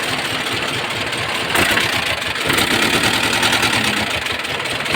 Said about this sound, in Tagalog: yung kanyang andar talagang mayanig siya sobrang inig yun